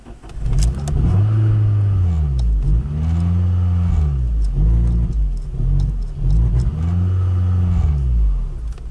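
An Alfa Romeo 164 engine revved repeatedly, rising and falling in loud cycles roughly every two seconds as it struggles to hold revs, close and with no talk.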